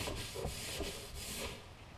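A Scotch-Brite pad rubs a Dodge Ram MBRP exhaust tip, giving a steady close scouring hiss with a few rhythmic strokes, alone without talk.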